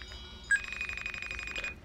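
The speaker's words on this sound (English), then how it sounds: "right now, I'll just call him." A short click, then a steady electronic ringing tone plays over a phone line while a call is placed to a Freddy Fazbear's Pizza number, continuing evenly for over a second.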